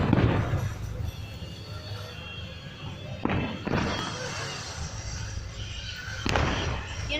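Fireworks at a Sea World show booming from a distance, several dull thuds spread across the clip over a rumbling crowd-and-wind background.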